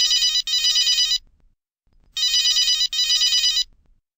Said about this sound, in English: from which the user can hear a ringing tone